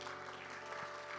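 Church congregation clapping together in a steady, fairly faint spread of applause, a low hum running underneath.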